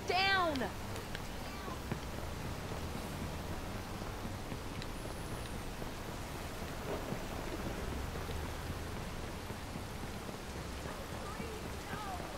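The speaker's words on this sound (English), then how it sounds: "I'm wet, it's raining." Steady rain pours down in the Watch Dogs video game, a dense, continuous hiss with faint thunder-like rumble underneath, while a voice talks over it.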